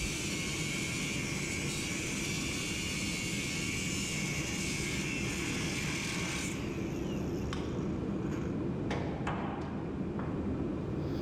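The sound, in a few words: grinder cutting a bolt on a heavy equipment bucket edge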